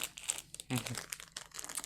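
Close, crackly crinkling of a plastic bag being handled in short bursts during unboxing of a Vinga Era 02 PC case, with a quiet voice murmuring underneath.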